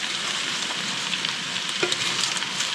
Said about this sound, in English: we're gonna take a 10-ounce package of fresh spinach and we're gonna wilt it down for about a minute or so